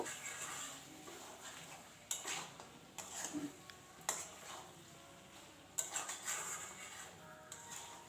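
A spatula stirs chicken in a pan, giving about five or six distinct scraping, clinking strokes spaced a second or two apart over a quiet background.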